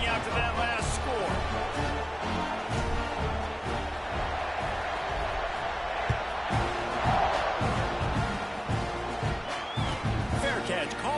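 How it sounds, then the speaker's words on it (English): A stadium crowd at a football game keeps up a dense, steady roar and buzz after a touchdown, with an announcer's voice talking over the continuous noise. "this crowd is buzzing after that last score"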